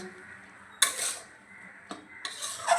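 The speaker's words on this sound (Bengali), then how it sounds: "এবার আলুর সঙ্গে আটাটা ভালো করে এইভাবে মিশিয়ে নেব" Atta flour being worked into boiled potato and water in a pan with the gas turned off: scraping, stirring strokes of a utensil against the pan, with a sharper clatter near the start and again toward the end, no talk.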